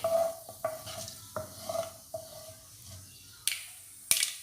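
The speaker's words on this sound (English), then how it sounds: "Once the oil is hot, you have to add 1 teaspoon mustard seeds. Stir fry it." Mustard seeds stir-fried in hot oil for a macaroni pasta dish, a soft sizzle with clinks of a utensil scraping and tapping the pan at irregular intervals, close and fairly quiet.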